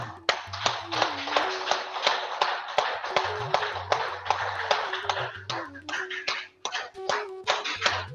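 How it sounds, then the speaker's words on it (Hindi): Group clapping during a morning yoga session: a run of quick, steady hand claps, fairly close and loud, with a low humming tone underneath. "तालियां"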